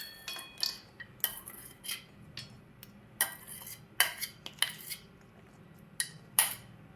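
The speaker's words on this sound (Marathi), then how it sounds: "आपण आता सर्विंगसाठी एका प्लेटमध्ये हा चाट काढून घेऊया" A spoon scrapes and taps against dishes while makhana chaat is served onto a plate: a quiet, irregular run of light metallic clinks, close by and alone.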